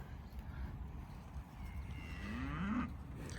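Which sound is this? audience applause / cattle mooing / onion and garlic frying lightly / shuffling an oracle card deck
cattle mooing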